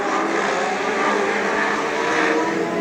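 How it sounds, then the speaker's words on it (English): Legend race cars roar around a racetrack at night, a steady dense wash of engine noise with no gaps between passes, loud and continuous. "The next car through is the 16 of Steve Barrow as the 3 car goes around"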